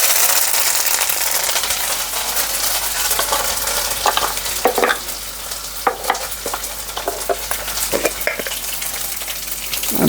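Curry leaves crackling in hot oil while tempering mustard seeds and dried chillies for patra, a loud close sizzle with sharp spitting pops and some stirring, no talk.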